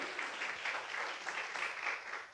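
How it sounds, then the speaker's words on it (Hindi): A church congregation claps hard and steadily during a Hindi sermon, a dense, continuous wash of applause filling the room without a break. "एक बार ताली बजाओ जोर से"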